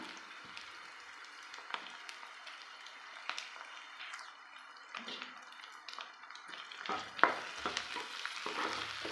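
Small diced potato pieces sauté in oil in a home kitchen pan for a spinach and potato lunch dish, with a steady sizzle broken by repeated scraping and tapping strokes of a spatula, close and moderately loud, no speech.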